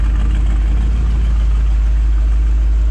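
A restored 1955 Chevrolet 3100 Task Force pickup idling while not yet warmed up, a loud, steady, deep engine rumble with a constant low throb and no revving.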